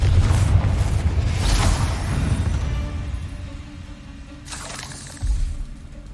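A Confringo fire spell bursts in Hogwarts Legacy with a loud, rumbling explosive roar that decays over several seconds, followed by a second smaller burst near the end.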